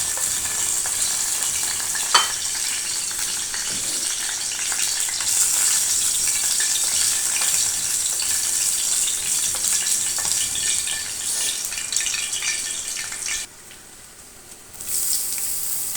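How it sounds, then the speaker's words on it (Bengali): Dried red chilies fry in hot oil in a home kitchen, a steady crackling sizzle with occasional stirring clatter, briefly dropping quieter near the end before resuming. "সিম সেদ্ধ হয়ে গেছে, এখন দিয়ে শুকনো মরিচটা একটু ভেজে নিব।"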